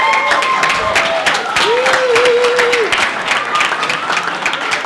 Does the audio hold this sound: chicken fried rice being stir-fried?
no